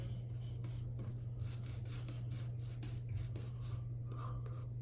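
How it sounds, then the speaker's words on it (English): A walnut-handled shaving brush works Barrister and Mann shaving soap into lather, producing a soft, continuous close-up swishing and rubbing with faint rhythmic strokes over a low steady hum. "Let's get to lathering."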